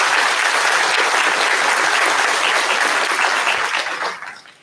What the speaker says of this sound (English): How about a round of applause for those who have meant so much for you and this success?